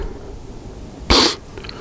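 A single sharp sneeze bursts out close and loud in a quiet room, lasting a fraction of a second before fading back to faint background noise.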